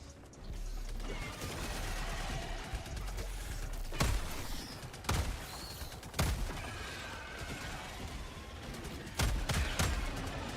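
Gunfire from a video game, with sharp isolated shots cracking at irregular intervals over a steady bed of mechanical in-game noise and clanks.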